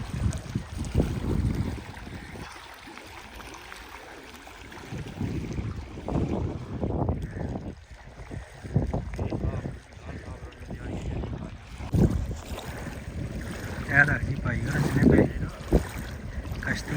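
Boats arrive on a river among big rocks, with rushing water and gusting wind noise buffeting the microphone throughout, and voices talking intermittently over the steady outdoor roar.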